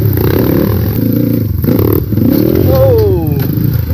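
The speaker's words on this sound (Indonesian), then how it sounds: "Jadi dia sudah menggunakan motor KLX 150" A standard factory Kawasaki KLX 150 dirt bike engine chugs and revs loudly up close on a river trail, with clattering mechanical noise and a person shouting briefly over it.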